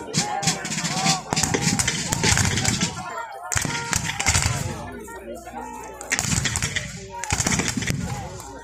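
Black-powder musket volleys crack out at a Battle of Gettysburg reenactment, several sharp shots and ragged bursts echoing across an open field, with crowd chatter and voices in between.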